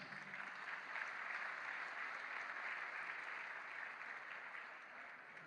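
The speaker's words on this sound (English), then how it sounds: "Please give a round of applause for Trisakti University Choir" Sustained applause from a large audience at a press freedom prize ceremony for a university choir, steady and even throughout, with no voices standing out.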